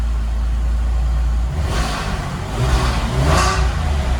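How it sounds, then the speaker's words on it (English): A cold Porsche 996 GT3 engine idles slightly high after new coils, spark plugs and tensioner, a steady low rumble up close with a couple of brief swells, no voices. "Seems to be running smooth. Still idling a little high, it's cold."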